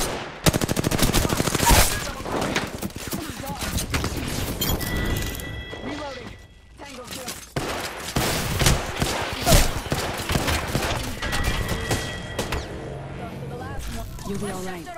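Gunfire in the Apex Legends video game, rapid automatic bursts and single shots crackling loudly and nearly nonstop, with a brief lull in the middle and talking underneath.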